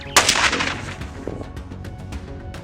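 A gunshot cracks loudly and close during a feral hog hunt on an Alabama farm, followed by a rumbling echo and scattered fainter sharp cracks as the sound dies away.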